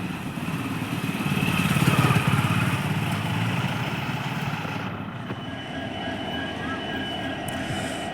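A local train runs between Dasnagar and Santragachi on the route to Digha, giving a steady low rumble with rhythmic clatter that swells in the first seconds, then holds at a constant level throughout.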